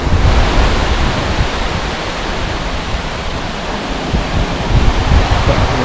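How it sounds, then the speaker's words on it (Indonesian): Ocean surf breaking on the beach at Banyu Tibo, Pacitan, facing the Indian Ocean: a steady, loud roar of waves that swells slightly near the start and end, with no talk. "di depan sudah samudra"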